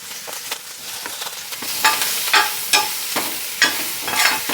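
Onions sauté in a pan with bay leaf and curry leaves for masala oats, a soft continuous sizzle broken by repeated sharp scraping strokes of a spoon stirring, close and fairly loud.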